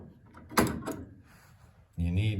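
A door lock on a door with no play gets worked, giving a few sharp metallic clacks and a scraping rub, followed by a low mechanical grinding, heard close up beside a speaking voice.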